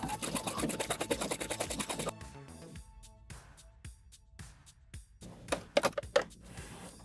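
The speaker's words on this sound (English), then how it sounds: "Now I'm going to add the second row of stitches on the other end of the fabric." Close, loud rapid whirring of a sewing machine stitching a second row of stitches along the end of a fabric piece, followed by slower, uneven clunking stitches and a few sharp clicks.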